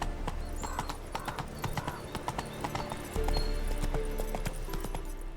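A horse named Roach clip-clops along in quick rhythmic hoofbeats, close and steady, with the pace picking up toward the end while a rider's brief voice comes through faintly.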